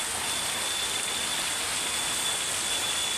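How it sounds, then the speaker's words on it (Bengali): Steady rain falls outdoors near a waterway where boats pass, a dense, even patter and hiss that stays constant throughout with no voices. "অনেক সুন্দর বৃষ্টি হইতেছে"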